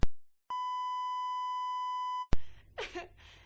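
Censor beep, a steady pure tone of nearly two seconds that blanks out a spoken name, set between sharp clicks and followed by a short burst of speech.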